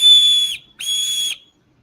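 Small whistle built into a multi-tool blown shrilly in two piercing bursts, each about half a second long with a short gap between, loud and close with no other sound.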